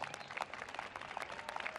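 Audience at a White House welcome ceremony for a Kenyan state visit applauding, a fairly faint, dense patter of many hands clapping from a distance.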